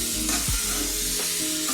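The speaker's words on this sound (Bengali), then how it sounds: "একটু কষিয়ে নিই।" Raw jackfruit pieces sautéing in a pan for a curry, a dense close sizzle with a couple of low scraping stirs, steady and alone.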